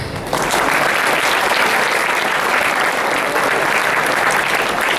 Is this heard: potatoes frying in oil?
no